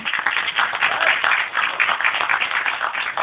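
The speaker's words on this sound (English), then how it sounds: "can we please have claps for him?" An audience claps at a film music launch event on stage, honouring a director being called up. The applause is dense and steady throughout, fairly close and moderately loud, with no other voices standing out.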